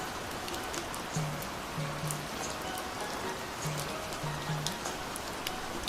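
Heavy rain pours steadily at the Kartik Swami temple in Uttarakhand, a dense unbroken hiss of drops on surfaces throughout, with no clear talk.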